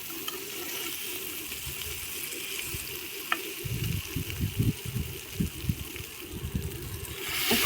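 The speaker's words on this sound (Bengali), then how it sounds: "এখন ভালো করে মাছের মাথা, আলু, চাউল সব একসাথে আমি কষিয়ে নেব।" Rohu fish head, potato chunks and rice sautéing together in a pan, with a steady loud sizzle and irregular scraping, stirring knocks growing busier toward the end.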